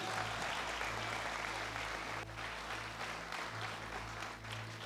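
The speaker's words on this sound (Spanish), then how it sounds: "Dale un aplauso al Señor fuerte." A church congregation applauds the Lord, sustained, even clapping filling the room over low, droning background music.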